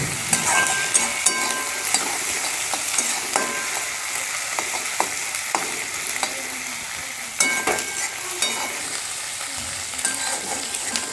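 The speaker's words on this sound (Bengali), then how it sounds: "সব মশলাগুলোকে একটু ভেজে নেব।" Onion, ginger-garlic paste and slit green chilies fry in hot oil for a rohu fish-head dish, giving a steady close hiss broken by frequent sharp clinks and scrapes of stirring.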